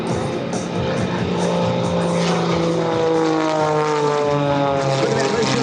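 Extra 330 aerobatic propeller plane at an air show, its engine roaring and droning with shifting pitch as it climbs, spins and rolls, loud and sustained under an excited commentator's voice.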